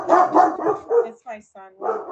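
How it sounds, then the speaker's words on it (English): A pet dog barks in quick, close bursts from one end to the other, and a few strained yelps interrupt the run of loud barking. "Is that your dog?"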